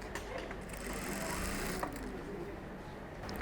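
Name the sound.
sewing machine sewing a bag hem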